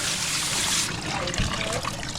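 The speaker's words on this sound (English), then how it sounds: "washing the last of the mud off of them" Live crawfish being rinsed of mud under running water, a steady splashing trickle spilling over the shellfish, close and continuous with a brief low thump partway through.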